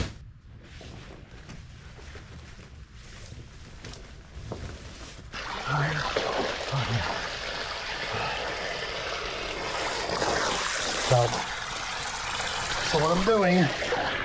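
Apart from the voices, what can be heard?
water filling a puppy pool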